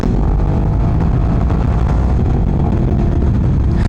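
A tuned sport motorcycle engine, a 2023 R1, lugs in fourth gear at low RPM, a loud continuous close-up drone with steady rough pulsing throughout.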